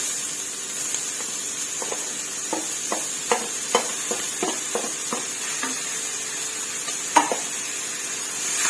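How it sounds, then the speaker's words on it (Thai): Shiitake mushrooms, carrot and tomato are stir-fried in a pan for Thai rad na with wide noodles. A steady, bright sizzle hisses throughout, broken by frequent light scrapes and taps of the spatula against the pan. "คนไปเรื่อยๆ ผัดจนสุกหอมค่ะ"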